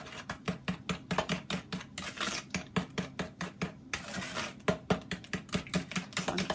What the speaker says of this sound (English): So again, I can just mix that up.